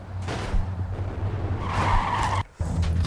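Trucks skid and crash in the video game Clustertruck: a loud, continuous tire-screech and engine roar with a rising squeal, cut by a brief drop in sound before the skidding resumes.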